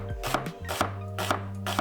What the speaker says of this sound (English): So I'm first gonna slice the onion.